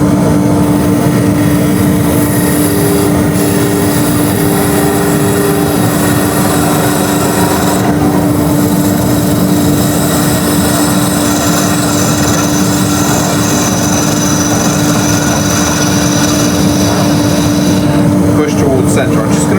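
A gouge with its bevel rubbing shears wood on a running lathe, a loud continuous scraping hiss over the motor's steady hum for the whole stretch.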